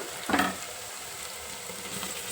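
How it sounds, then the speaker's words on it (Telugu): Turmeric, ginger and garlic frying in oil for a mutton curry, a short stirring burst of sizzle over a steady soft hiss, close and moderately quiet. "స్పూను పసుపు అల్లం వెల్లిగడ్డ కూడా మంచిగా వేగింది కదండి ఇప్పుడు"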